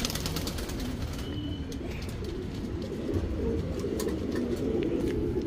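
A male Sabbza flying pigeon coos close by in low, repeated throaty rumbles, with faint chirps of other birds behind.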